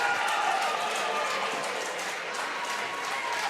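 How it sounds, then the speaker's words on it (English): West Fargo Cheyenne fans applauding at a holiday wrestling tournament, a steady wall of clapping and crowd noise filling the gym, continuous and fairly loud throughout. "that applause you hear is the West Fargo Cheyenne faithful"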